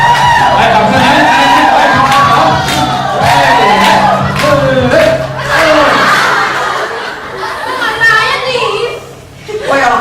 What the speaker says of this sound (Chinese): 来，掌声来！